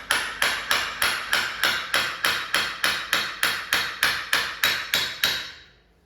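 A hammer lightly taps a pulley onto a power steering pump on a 1959 Impala, striking about fifteen evenly spaced sharp metallic blows at a quick steady rhythm, close and clear, with the last ringing tail fading out.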